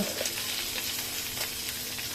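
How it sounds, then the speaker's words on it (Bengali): Koi fish curry with new potatoes sizzling in a pan as it is stirred, a steady close frying hiss with soft scraping strokes throughout, no voices. "এখন আমি নাড়াচাড়া করে ভালো করে মিশিয়ে নিব যাতে সবগুলো মশলা ঝোলের সাথে মিশে যায়"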